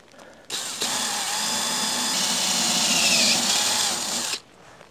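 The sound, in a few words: power drill drilling out rivets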